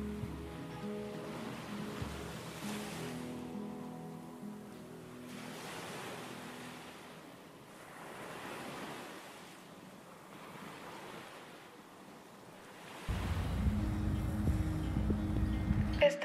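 Ocean surf at Long Beach, California, with rolling swells surging and receding in slow waves, moderately loud, alongside low tonal background sound and a louder stretch near the end.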